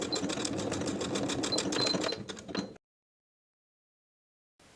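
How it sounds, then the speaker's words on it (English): A home sewing machine basting elastic onto a sleeve edge within the seam allowance, a steady close rapid stitching whir that runs for under three seconds, then stops abruptly into silence. "I'm going to baste that section in place within the seam allowance"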